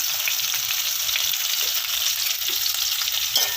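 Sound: onions sautéing for chicken sukka

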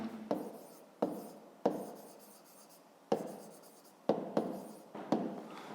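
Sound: writing by hand in a notebook

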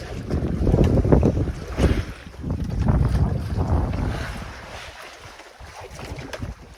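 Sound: choppy sea waves around a fishing boat on the Pacific

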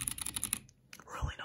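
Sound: typing on an RGB gaming keyboard

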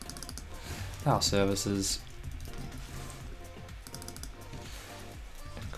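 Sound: typing on a computer keyboard

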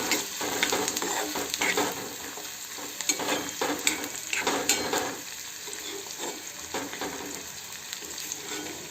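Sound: onions frying in oil for egg bhurji

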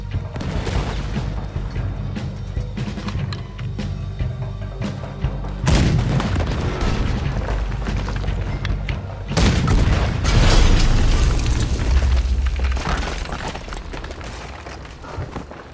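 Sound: cannon fire, from the video game Red Dead Redemption 2

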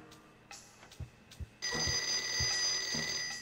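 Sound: telephone ringing in a video game

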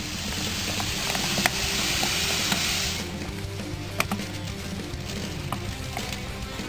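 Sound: 2.5 kg of sugar poured into 26 litres of grape juice

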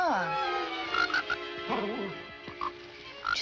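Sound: frog croaking

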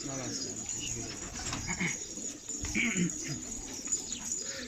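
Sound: pigeons flying from a rooftop

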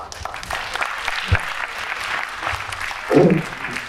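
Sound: audience applause

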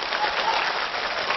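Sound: audience applause

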